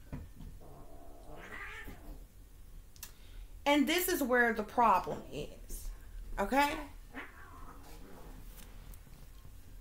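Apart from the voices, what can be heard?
cat meowing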